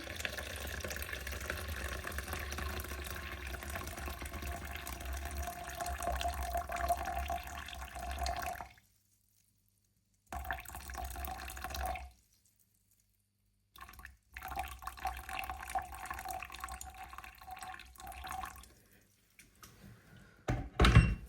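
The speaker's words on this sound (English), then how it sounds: "So I need 360 milliliters of water. So I'm just gonna do that above a scale." Water runs from a tap into a container sitting on a kitchen scale while kombucha is being made, pouring steadily for several seconds, stopping, then starting again in short bursts with gaps of silence, close and fairly loud.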